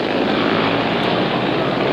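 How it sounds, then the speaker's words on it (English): Racing motorcycle engines roar at high speed down a long hill, a loud, sustained, unbroken drone filling the whole stretch with no voices over it. "down this long hill, the motorcycles reach speeds of over 90 miles an hour, and then must be geared down to 10 miles an hour to take the hairpin"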